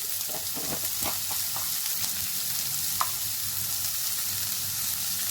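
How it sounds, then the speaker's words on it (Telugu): Onions sprinkled with salt fry in a pan, giving a constant bright sizzle, with a few spoon scrapes and stirring knocks near the start and one sharp tap midway, and no one speaking. "మంచిగా బాగా వేగాలి ఉల్లిపాయలు బాగా వేగాలంటే కొంచెం సాల్ట్ వేయాలి"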